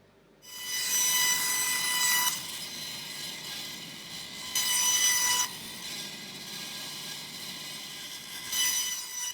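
A bandsaw rips a flipped wood board into an equilateral triangle stick, three bursts of bright high-pitched cutting whine rising over a steady machine hum between them.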